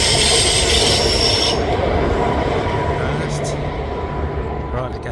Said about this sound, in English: And there's the old train you can hear.